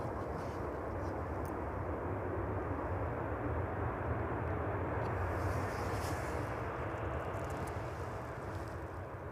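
A jet airliner touching down on the runway at East Midlands Airport in the evening, heard as a steady, broad roar of engine and wind noise that holds constant throughout, loud and fairly close.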